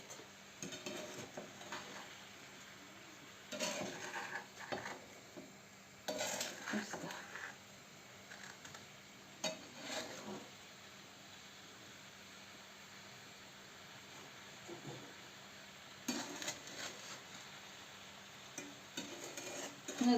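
A spoon scrapes and stirs plum jam in a pot in intermittent bursts, quiet stretches between the strokes, with faint background hum.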